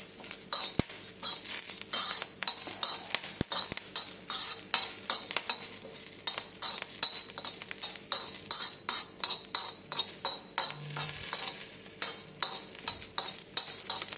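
Curry leaves, garlic and cumin frying in a pan for green chilli chutney, a soft sizzle under steady rhythmic scraping and stirring of a metal spoon against the pan, close and continuous with no talk.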